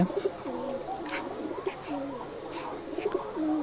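Giribaj pigeon cooing softly, a few low repeated coos with faint rustling, fairly quiet and close, with no talk.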